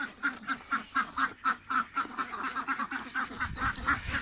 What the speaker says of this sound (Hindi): ये बच्चे ने जी फार्म बनाया हुआ है एक बतखों का